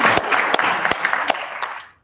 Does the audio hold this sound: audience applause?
yes